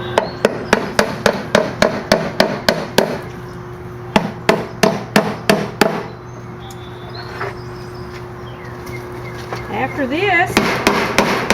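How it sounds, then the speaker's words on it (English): Roofing nails are hammered through weed block fabric into a wooden raised garden bed box: loud, evenly spaced metallic hammer blows in quick runs, then a pause. A brief spoken phrase and faint birdsong come through outdoors before another burst of strikes. "so now I'm just nailing the weed block fabric block in place so it stays."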